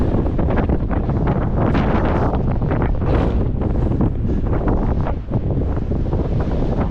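A strong headwind on the coast roars and buffets against the microphone during a long coastal run, loud and constant throughout, with no voices.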